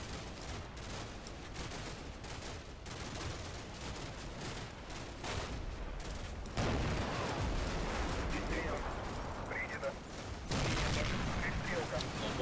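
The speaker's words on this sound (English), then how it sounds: "AP fire going straight through the building" Armor-piercing rounds punch through a building and mortars land in Combat Mission: Black Sea, a war game, with a continuous rumble of gunfire and repeated dull blasts at a distance.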